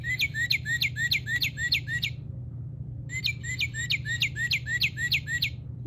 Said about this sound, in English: He makes some nice sounds. That red cardinal is good.